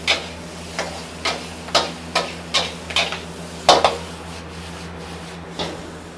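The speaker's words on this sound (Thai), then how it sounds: "แล้วก็ผัดนะครับ ให้ผักมันสุก" Vegetables being stir-fried for fried rice in a pan, a low sizzle under a regular series of sharp spatula taps and scrapes, close up with no talking.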